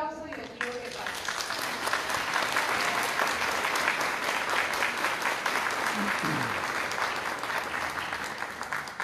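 Sustained audience applause fills a hall at a Mexican university anniversary ceremony in Zamora, Michoacán, steady and dense throughout, with a brief voice at the start.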